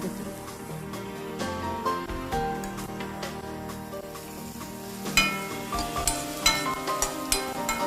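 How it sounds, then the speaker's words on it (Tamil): Sliced onions with turmeric sizzle and fry in a pan, a steady crackle broken by clinks and scrapes of stirring that grow busier toward the end. "இப்போ வெங்காயம் வதங்கிடுச்சு."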